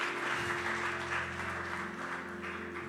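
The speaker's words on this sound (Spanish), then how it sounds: "Denle un fuerte aplauso al Señor." Church congregation applauding during a Spanish-language service, a steady wash of clapping throughout with a sustained musical tone underneath, moderately distant and even in level.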